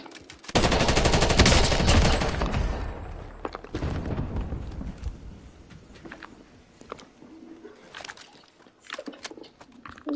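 Automatic gunfire in the game Warzone rattles loudly in a long rapid burst for about three seconds, followed by scattered shorter bursts and single shots that fade into lighter clatter.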